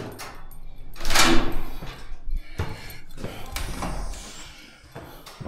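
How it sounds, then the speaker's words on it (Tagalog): A building door being opened at an apartment entrance in Canada, a sharp clunk of the latch or lock followed by further knocks and rattles of the door and surrounding movement, close by. "Bubuksan nila yung pinto."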